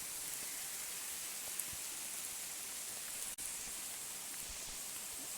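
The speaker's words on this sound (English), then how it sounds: "it's still raining" Steady rain falls during a thunderstorm in Barcelona, Spain, heard from shelter under a tree as a continuous dense hiss of drops with no voices.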